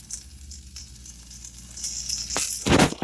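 Tofurky tempeh smoky maple bacon strips sizzle on a hot, oiled cast iron griddle, a soft, crackling fry that swells into a loud hiss near the end.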